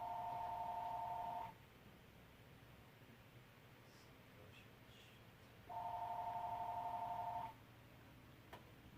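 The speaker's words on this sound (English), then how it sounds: "that was the phone." Landline telephone ringing indoors, two long electronic ring bursts separated by a few seconds of quiet room hiss, moderately faint and without any talking.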